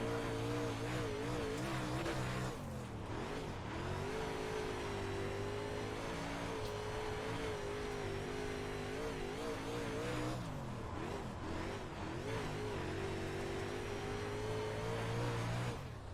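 A dirt race car laps a dirt oval in iRacing, its engine droning continuously and rising and falling in pitch as it accelerates and lifts through the turns, with occasional tire scrubbing.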